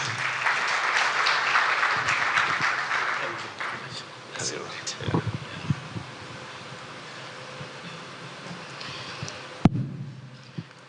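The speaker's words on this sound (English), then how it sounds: "Let us clap for him, please." Audience applause at the 2023 Kuza Awards ceremony, a broad wash of clapping for the first few seconds that thins and fades, followed by scattered handling noise and a low murmur.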